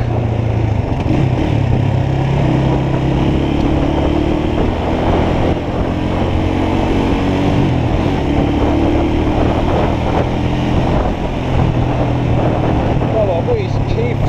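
Motorcycle riding at speed outdoors, a steady loud engine drone with heavy wind rush throughout, continuous with no pauses.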